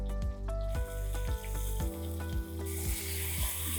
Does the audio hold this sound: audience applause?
no